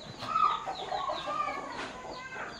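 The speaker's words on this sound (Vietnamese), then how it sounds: "vịt gà nhà ông bên dưới nhá." Chickens clucking among ducks kept beneath a concrete stilt house in northwest Vietnam's hills, a steady, close flock chatter with overlapping calls and no talk.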